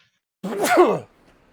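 A single sneeze or sharp sudden exhalation, close and fairly loud, lasting about half a second, followed by near silence during a live online commentary stream.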